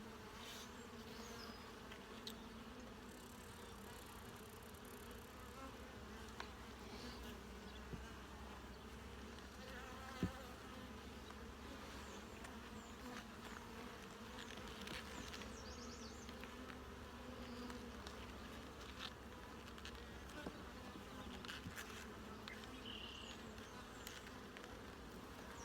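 Honey bees buzz in a dense, steady drone during a hive inspection, close and continuous throughout. Faint clicks and knocks of frames being handled sit under the buzzing, and no one speaks.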